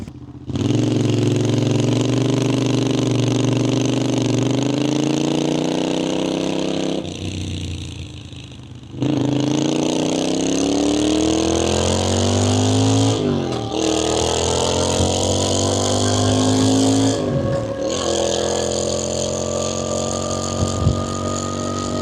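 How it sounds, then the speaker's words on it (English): A Triumph Scrambler 900 exhaust, recorded up close while riding, pulls through repeated rising revs with brief drops at gear changes, loud and continuous throughout. "I do have an exhaust clip that I'm gonna put right here so you guys could actually hear what it sounds like"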